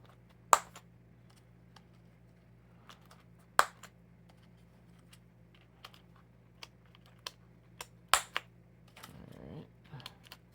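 Topre keycaps pressed onto a Happy Hacking Keyboard, sharp isolated clicks and snaps spaced a few seconds apart, some louder than others, with a brief rustle near the end against a quiet hum.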